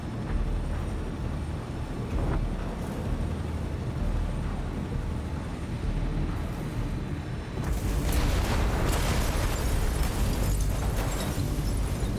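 A loud broadband blast erupts partway through, a sustained roaring burst from an explosion in Microsoft Flight Simulator 2024's Stranger Things add-on, over a steady engine drone that runs throughout.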